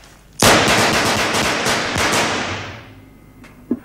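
A rapid burst of pistol shots at a target range, several sharp cracks fired in quick succession close by, with the echo trailing off afterward.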